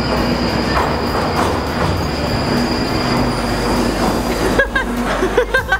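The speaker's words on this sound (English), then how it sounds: "Do you want to get on this train or you want to go to the next one?" A train passes close by on rails with a loud, steady rumble and high metallic wheel squeals, with sharper clanks near the end.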